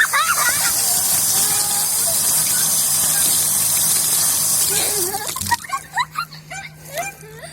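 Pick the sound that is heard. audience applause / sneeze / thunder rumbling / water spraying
water spraying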